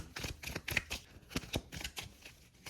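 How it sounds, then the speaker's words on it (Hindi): Tarot cards are shuffled close up in quick, crisp riffling bursts, a series of soft papery flicks with short gaps between them, quiet and with no talking. "Shuffle."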